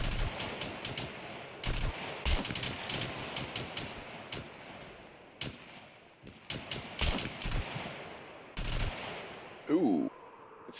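Gunfire in the survival video game Scum, aimed at flying puppets: sharp, loud, close shots fired in irregular clusters over several seconds, mixed with mechanical clicks and a brief voice near the end.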